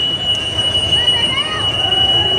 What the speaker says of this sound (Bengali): অলরেডি ট্রেন আসতেছে